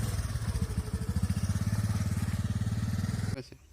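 An old Pulsar 220 engine fitted to a homemade flying bike runs close by with a fast, steady pulsing putter that cuts off abruptly near the end.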